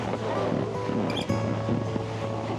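A boat carries people into a canyon in Georgia, with steady engine hum and water and wind rushing close to the microphone for a few seconds.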